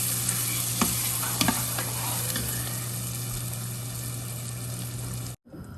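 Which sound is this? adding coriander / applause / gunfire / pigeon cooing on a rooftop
adding coriander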